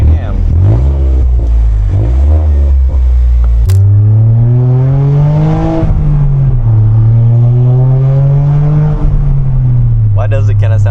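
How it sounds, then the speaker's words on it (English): A modified Toyota GR Corolla pulls hard from inside the cabin, its turbocharged engine rising loud and steady through the gears with a sharp shift break midway, as occupants talk over it. "Oh, the turbo sounds so good."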